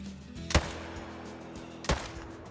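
Two hunting rifle shots in Call of the Wild on a Rocky Mountain hunt after ibex, each a single loud crack with a short echo tail, spaced over a second apart against quiet ambience.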